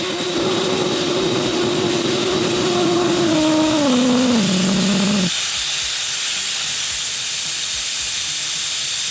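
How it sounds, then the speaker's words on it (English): Air rushes loudly and steadily out of an opened tire deflator valve on an off-road wheel, a strong hiss with a tone that falls in pitch before cutting off abruptly, then faint residual hiss. "Then we're gonna open this valve all the way open."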